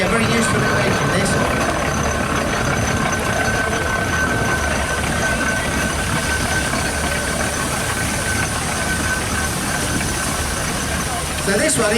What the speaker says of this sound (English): So this one is a 1927 Foden steam wagon.